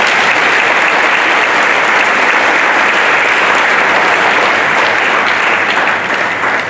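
An audience at a round table investment conference applauds loudly and continuously, a dense, steady wash of clapping that fills the whole stretch without a pause.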